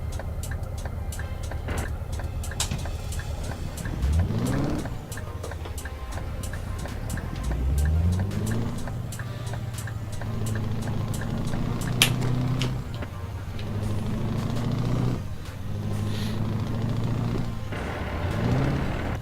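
A heavy truck in Euro Truck Simulator 2 with an engine sound mod revs and drops through gear changes, engine pitch rising and falling in repeated sweeps with sharp air-brake-like hisses and clunks, no talking.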